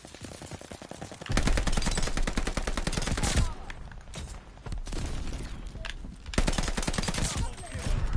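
Rapid automatic gunfire in Call of Duty Warzone rattles in dense, loud bursts with short pauses between them, close up, and a voice talks faintly underneath.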